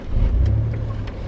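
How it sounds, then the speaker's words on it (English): A car engine idles steadily close by after a push-button-style start, a low continuous rumble with slight swells, heard alone with no talking. "I don't know if you can hear the car run"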